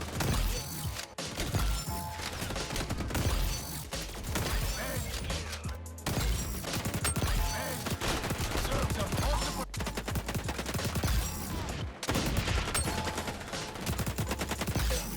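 An AK rifle with a rapid fire barrel in the video game XDefiant fires long, fast, loud bursts with crashing impacts, cut by a few very short pauses.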